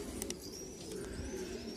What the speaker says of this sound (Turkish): Arkadaşlar bu videomuzda iki tane güvercin birden ürküteceğiz